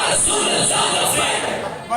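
A mosque congregation at Jamia Masjid Noor in Chishtian loudly chants a takbir slogan in unison, a dense, roaring crowd of voices filling the hall, sustained and then tapering slightly before a final surge.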